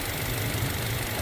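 Toyota Innova Reborn petrol engine idling smoothly, a steady low hum with faint fast ticking from the injectors running through it, close and continuous.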